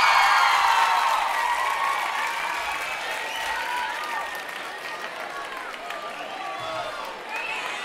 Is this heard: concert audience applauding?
yes